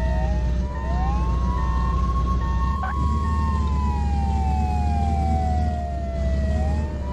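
An ambulance siren in the driving game Flashing Lights wails steadily and loudly from start to finish, its pitch sweeping slowly up and down over a constant low engine rumble, with one brief sharp click partway through.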